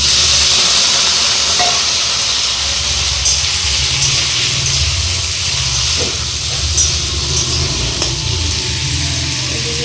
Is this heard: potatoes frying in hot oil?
yes